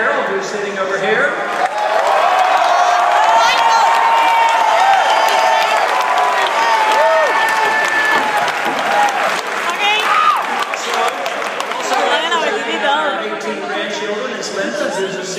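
A campaign-rally crowd at Cornell applauds and cheers Ron Paul, with loud sustained clapping, scattered whoops and chatter filling the room for the whole stretch before fading slightly.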